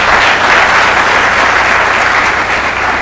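An audience applauds at the 2024 Montgomery College Spring Closing Meeting: loud, dense, steady clapping fills the whole stretch without a break, with no voices standing out.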